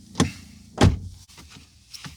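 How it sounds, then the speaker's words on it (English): Two solid thumps close by, like a Toyota Highlander car door being shut, followed by faint rustling and a softer knock. "let me close the door here."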